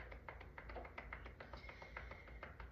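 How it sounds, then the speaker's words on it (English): Hands knocking rhythmically on the lower abdomen during a qigong flow, a quick steady series of soft, close taps with no talking. "then we'll knock on the lower abdomen"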